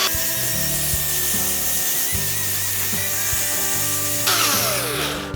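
A power tool runs steadily on a 1964 Chevy C10 to clean paint residue off the body, with a continuous whirring and grinding drone close by and occasional knocks.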